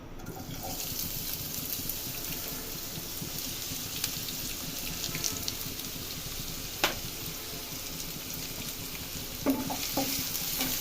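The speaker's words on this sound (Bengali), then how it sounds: "আমার তেলটা গরম হয়ে গেলে এর সাথে আপনি পেঁয়াজ কুচি দিয়ে দিবেন।" Chopped onion fries in hot oil for a farm chicken curry, giving a steady, dense sizzle throughout with occasional light stirring clicks and clinks.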